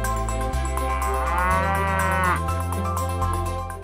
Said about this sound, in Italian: ma pure mucche che parlano e cazzeggiano tutto il tempo.